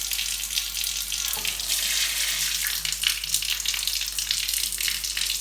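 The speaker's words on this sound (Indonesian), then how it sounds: "nyalakan keran air menggunakan siku." A water tap turned on with the elbow for handwashing runs in a steady, hissing stream into a sink, close and continuous throughout with no talking.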